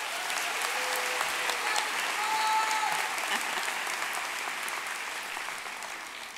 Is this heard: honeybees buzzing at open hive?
no